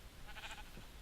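A single short sheep bleat from the Minecraft Aether 2 mod sounds once, thin and moderately faint over a soft game background.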